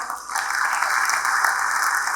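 Audience applause at a university welcome event in Dubai, a steady even wash of clapping that holds for a couple of seconds with no voices over it.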